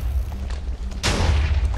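A whip cannon fires in a video game match amid a busy battlefield: a heavy boom hits about a second in, followed by rumbling blasts, over a constant low drone of game noise.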